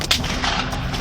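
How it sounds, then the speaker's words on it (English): Gunfire during a mass shooting, a sharp crack near the start followed by a dull, echoing rumble of shots over rough background noise. "More shots are being fired right now."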